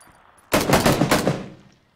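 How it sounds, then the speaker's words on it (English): A rapid burst of automatic gunfire in the battle royale game PUBG, loud and close, with several quick shots running together before fading out over about a second, and no voices. "I'm being shot at from like 5 to 15."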